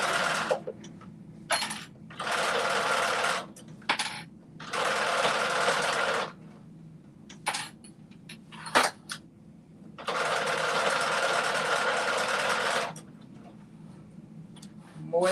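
Sewing machine stitching a waistband in bursts of rapid mechanical whirring, several runs of one to three seconds with pauses between, close and loud, with faint clicks and handling sounds in the gaps.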